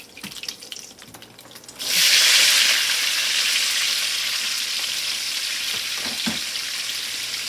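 Onions and green peppers dropped into a hot pan for Sunday dinner, starting with a few light clinks before a sudden loud, bright sizzle that holds steady and close, with a couple of utensil knocks near the end.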